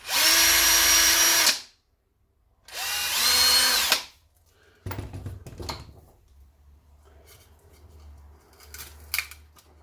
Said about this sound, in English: What if I drill along this edge?